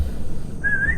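A single clear whistled tone rises in and holds a steady, slightly wavering pitch for about half a second over a low rumbling background in a bamboo passage at Rawa Kalong.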